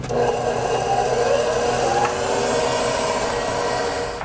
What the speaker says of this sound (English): now we're going to just mix this up real quick